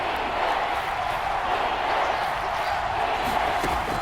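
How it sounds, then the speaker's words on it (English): A stadium crowd in the American football video game Madden NFL 22 makes a steady, loud, broadband roar of cheering before a big third down, holding at an even level throughout. "the crowd getting into it as we come up on a big 3rd down"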